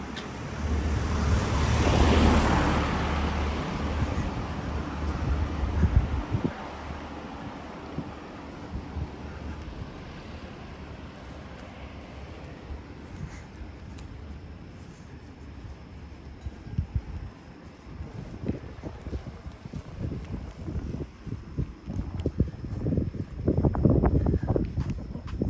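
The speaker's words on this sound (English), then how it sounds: "Uh-oh, getting windy again." Steady wind buffeting the microphone on a walk in Tokyo, loud gusts rumbling at the start and again near the end, with a continuous rushing hiss throughout.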